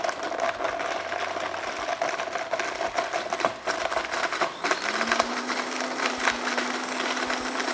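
A blender or food processor on high grinds bread into breadcrumbs, a loud, continuous whirring roar with rattling, crunchy chopping, lasting several seconds while the motor pitch steadies and rises partway through; no talking.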